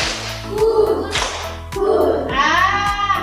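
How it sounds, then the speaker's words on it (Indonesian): Classroom of students clapping a rhythm game pattern, several sharp group claps in short bursts with a steady low hum underneath and faint noise between. "Tepuk 2, 1, 3."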